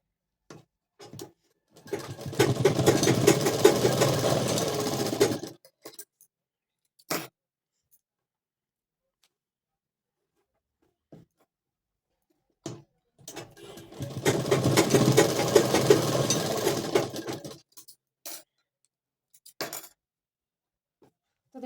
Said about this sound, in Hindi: तो अब हमें इन टक्सों में सिलाई लगा लेनी है।